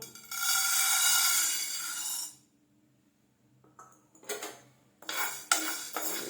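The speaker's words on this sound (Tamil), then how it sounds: "நல்லா பொன்னிறமாக வறுத்துக்கலாம்" Urad dal lentils dry-roasting in a pan for idli podi make a loud rattling, grainy scrape that stops abruptly, then returns in short bursts of metallic clinks and shuffling, with no voices.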